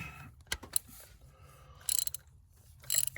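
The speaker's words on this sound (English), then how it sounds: "Get your ratchet" A ratchet working a spark plug loose on a 5.7 Hemi engine, giving a few short clicking bursts of pawl ticks at close range amid quiet handling noise, with no talking.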